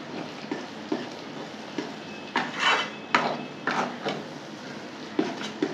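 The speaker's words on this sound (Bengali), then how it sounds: "ভালো করে এখন কষিয়ে নেব।" Kochu mukhi being stir-fried with turmeric in a pan, soft scraping and clinking of a spatula against the pan in irregular strokes, with a faint background sizzle, close and moderately quiet.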